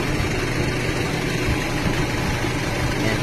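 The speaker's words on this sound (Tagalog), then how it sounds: "Gumagana po yung fan motor." The aircon fan motor of a Honda HR-V car runs with a constant broadband whir and low hum, steady and close with no voices over it.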